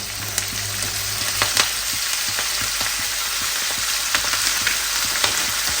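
Onions and potatoes sizzle steadily in a frying pan, a loud, close crackle with small pops and stirring scrapes scattered throughout, and no one speaking.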